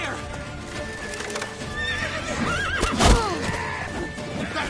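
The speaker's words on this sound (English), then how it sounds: "Leave your horse!" Horse neighing loudly in a PS4 video game, a rising and falling whinny over rhythmic hoofbeats, layered with game sound effects and music while people shout over it.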